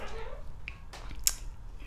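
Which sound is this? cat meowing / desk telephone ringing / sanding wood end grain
cat meowing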